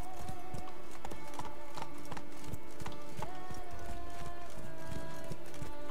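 Roach the horse in The Witcher 3 clip-clops along at a steady pace, a run of evenly spaced hoofbeats with a faint whinny over a low game ambience and background music.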